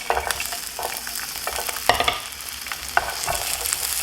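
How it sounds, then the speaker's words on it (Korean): Onions stir-fry in a little oil over medium heat, a bright, busy sizzle with scraping spatula strokes and a few louder clacks, close and continuous without speech. "자, 가장 먼저 양파 볶아줍니다."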